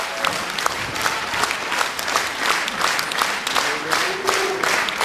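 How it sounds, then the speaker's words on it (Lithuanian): Sustained applause from an audience at a folk band's anniversary concert, dense steady clapping filling the room for the whole stretch, with a faint voice briefly audible beneath it. "Jiem karščiausi plojimai"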